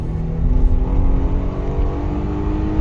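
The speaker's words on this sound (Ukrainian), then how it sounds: "А зараз ми спробуємо розгін від 0 до сотні" Volvo V60 T5 R-Design 2020 with a 2.0-litre turbo engine, automatic gearbox and front-wheel drive, accelerating hard from standstill to 100 km/h uphill: a steady, loud engine drone heard from inside the cabin, with no talk.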